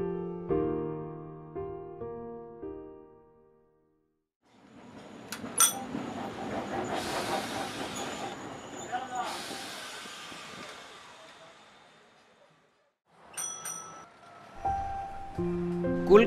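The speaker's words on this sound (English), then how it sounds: "The daily life of Kolkata and the wheel of tram goes simultaneously." Kolkata tram running on its rails, a rumbling passage with hiss and high metallic wheel squeals, rising and fading in two bursts, with musical tones at the start and end.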